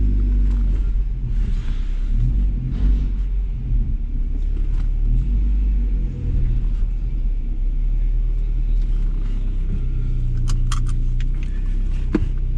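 A Ford Escort Cosworth, abandoned for ten years, drives on the road with a loud, deep steady engine rumble from inside the cabin, along with light rattles and jingling near the end.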